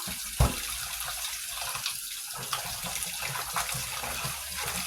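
Tap water running steadily to wash salt off a pork steak, a continuous splashing gush in a sink with a brief knock near the start.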